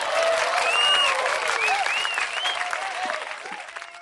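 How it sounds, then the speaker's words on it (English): An audience applauds to welcome a co-host onto a bass fishing show, steady clapping filling the room for several seconds while whoops and cheers rise over it, close and loud throughout. "You deserve two rounds of applause."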